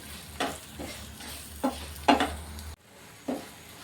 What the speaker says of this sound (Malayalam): ഈ മസാല ഇട്ട് കൊടുത്തതിന് ശേഷം നല്ലതുപോലെ ഒന്ന് ഇളക്കി